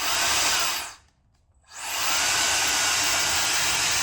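A hair dryer on its low heat setting blows with a loud, steady broadband rush, cuts out briefly for about half a second, then starts back up and runs on continuously.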